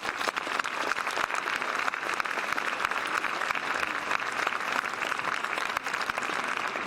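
Steady round of audience applause at a school veterans ceremony honoring veterans and active service members, dense clapping from a large crowd sustained throughout at an even, moderately loud level.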